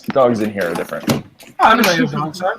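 A door being closed indoors: a brief knock-like thud near the start and another sharp bump partway through, both largely under people talking.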